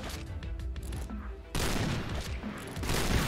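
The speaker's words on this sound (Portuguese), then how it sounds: "Tô levando tiros da parede" Rapid bursts of automatic gunfire from the online shooter Point Blank, dense and loud, stopping briefly before a second heavier volley crashes in and keeps going to the end.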